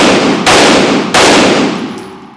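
Two loud, sharp gunshots from a Canik MC9 Prime 9mm pistol, about 0.7 seconds apart, each with a long ringing echo that fades out, with no voices.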